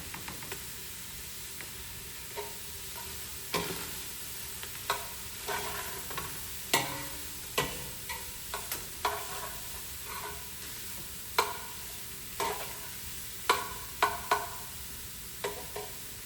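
Onions and minced garlic sizzle steadily in a pot for lasagna soup, a constant hiss broken by repeated scraping stir strokes and light utensil knocks, with no voices.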